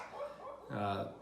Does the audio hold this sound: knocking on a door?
no